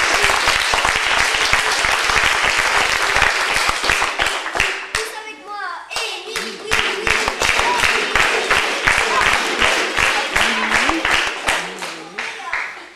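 Audience at a junior theatre show applauding, a loud sustained burst of clapping from a crowd that thins into rhythmic clapping, with a performer and someone speaking over it.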